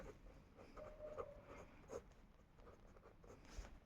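Chalk or marker scratching across a board in a chemistry classroom, faint short strokes and taps in a quiet room, coming in small irregular bursts.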